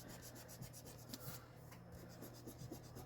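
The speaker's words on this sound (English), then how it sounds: "I'm gonna erase this" Pencil eraser rubbing on paper in a budgeting notebook, close quiet scrubbing strokes repeating in a quick steady rhythm with no talking.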